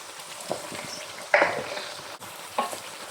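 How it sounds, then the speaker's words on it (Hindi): Masala for kofta curry fries in a pan with a soft, steady sizzle, broken by a few sharp scrapes and stirs of a spoon against the metal. "ये मसाला भून रही हूँ कोफ्ते"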